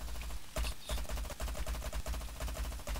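Rapid automatic gunfire in the shooter game Plants vs. Zombies Garden Warfare 2, with bullets striking an invisible wall. Loud, close bursts repeat in a fast, steady rhythm, broken by a few brief pauses.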